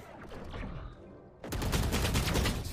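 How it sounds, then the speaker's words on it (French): Gunshots in the video game Valorant. A quieter stretch gives way midway to a sudden loud volley of rapid automatic fire that continues to the end. "j'ai tiré sur mon pote"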